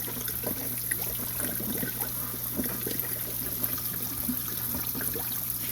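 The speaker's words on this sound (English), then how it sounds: "And so you can see how vigorous the water is coming through there" Water gushes and trickles through a bell siphon in a hydroponic grow system, a steady close splashing flow with a constant low hum beneath and no voices.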